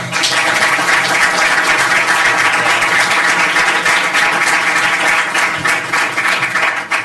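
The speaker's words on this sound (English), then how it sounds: "I'd like maybe everybody a round of applause for the panel" Loud, dense applause from a conference audience thanking a panel on carbon farming in Ireland, a sustained wash of many hands clapping close and steady throughout.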